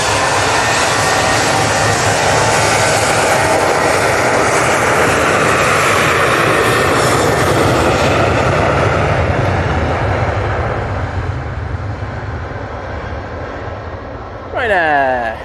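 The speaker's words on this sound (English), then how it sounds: "Ryanair 737-800 now on the roll." A Ryanair Boeing 737-800 jet takes off at Manchester Airport, its loud broadband engine roar filling the air steadily before fading gradually with distance, and a voice comes in briefly at the end.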